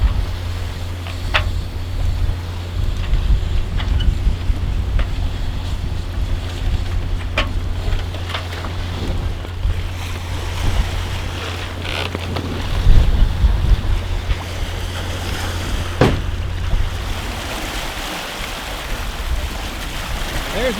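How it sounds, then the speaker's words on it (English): A sailboat runs in strong wind near a Bahamas cay, with loud gusting wind buffeting the microphone, water rushing along the hull and a low rumble throughout. "we are ready to go sailing"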